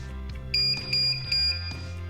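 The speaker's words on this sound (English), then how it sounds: "you're going to press and hold that button until the operator beeps" Guardian 928 side-mount garage door opener beeping during a reset, three sharp electronic beeps at an even pace over a low steady motor hum, with no talking.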